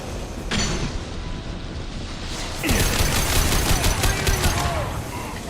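Sustained rapid gunfire aimed at a fuel section in the video game Mass Effect 2 rattles loudly over a dense battle backdrop, building in intensity midway.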